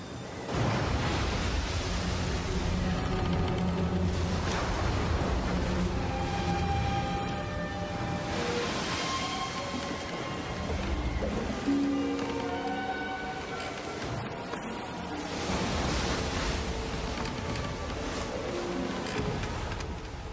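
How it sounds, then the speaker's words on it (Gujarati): Storm wind and surging waves on a lake stirred up around a rowing boat: a steady, loud broadband roar that lasts throughout, with a sustained musical drone layered over it. "પવનનું ભારે તોફાન શરૂ થયું અને મોજા ઉછળવા લાગ્યા"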